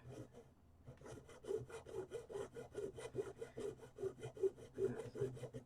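Rapid, steady back-and-forth scraping of a small blade cutting plastic model kit parts, close and quiet, in a continuous rhythmic stroke pattern.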